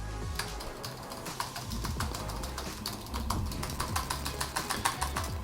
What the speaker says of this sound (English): it definitely has a little bit of clicking noise